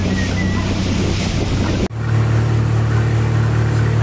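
A red motorboat runs at sea off Corfu, its engine droning steadily under wind and water noise, with a sharp break partway through before a stronger, even hum returns.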